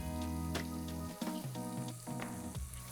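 Cumin, peas, green chilli, turmeric and coriander sizzle and roast in hot oil for a spinach and pea soup, a steady crackling fry under a low humming tone.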